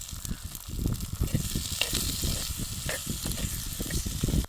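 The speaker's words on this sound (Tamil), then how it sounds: "வெங்காயம் நல்லா வதக்கிடுச்சு அதில் தக்காளியை போட்டுக்கிடலாம்" Onions fry in a pan for a village-style ring appalam kootu, a close, steady sizzle with crackling pops and the scrape of stirring, continuous and fairly loud with no talk.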